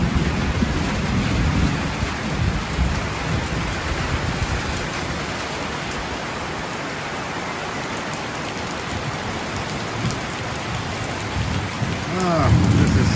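Heavy rain pours down steadily, breaking a month of dry weather. The hiss of the downpour runs throughout, and low thunder rumbles near the start and again toward the end.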